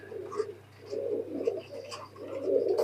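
Pakistani high-flyer teddy pigeons coo in a loft: several soft, throaty coos come in repeated phrases at close range over a faint steady hum.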